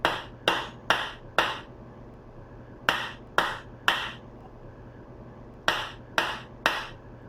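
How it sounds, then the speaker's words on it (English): Sharp hammer blows on an office chair's gas lift cylinder strike in quick bursts of three or four, with short pauses between groups, fairly close and crisp. "I'm going to give it a few hammer blows just to avoid the chair from overturning"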